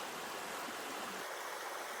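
Cougar Creek rushes over rapids in a steady, dense wash of flowing water, close and continuous with no other sounds.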